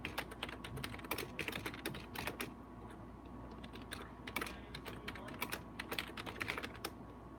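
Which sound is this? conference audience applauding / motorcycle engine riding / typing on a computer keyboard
typing on a computer keyboard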